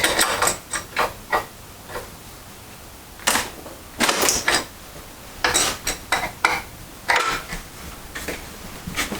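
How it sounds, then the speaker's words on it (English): Crescent wrench working spark plugs loose from a small engine for a mini jet boat: a series of sharp metallic clicks and ratcheting clanks in irregular bursts, close and fairly loud, with quiet gaps and no talking. "Somebody's gonna get mad at me for using a crescent wrench on spark plugs"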